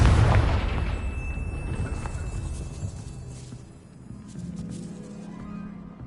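A Confringo spell detonates in Hogwarts Legacy at a castle gatehouse, a loud booming blast at the start that rumbles and decays over several seconds, leaving low background game ambience.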